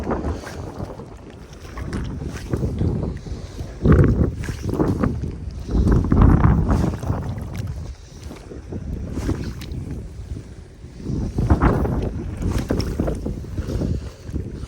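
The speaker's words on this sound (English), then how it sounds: "Wind's pretty relentless sometimes." Relentless wind at Grantsville reservoir during ice-off fly fishing, roaring and buffeting the microphone in loud, rumbling gusts that swell and ease over the whole stretch, with water lapping underneath.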